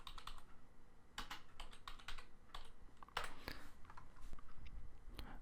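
Someone types a search into Google on a computer keyboard, giving a brisk irregular patter of close, crisp key clicks with a few heavier taps and no voices.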